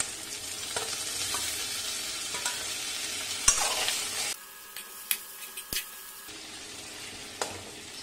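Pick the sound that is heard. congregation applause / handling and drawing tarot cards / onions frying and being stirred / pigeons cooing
onions frying and being stirred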